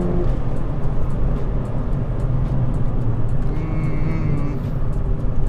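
A Ford Fiesta ST accelerates hard from a standstill during a 0–60 mph test, its engine roaring steadily with heavy low rumble and wheelspin noise, close and loud with no talk.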